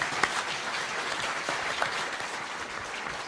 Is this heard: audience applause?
yes